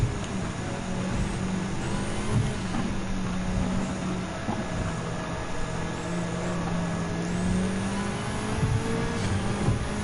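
Engine of a WRC Group B rally car racing on the Tokyo Expressway in Gran Turismo 7, a steady droning whine with slight pitch shifts under rain-like hiss, sustained and moderately loud.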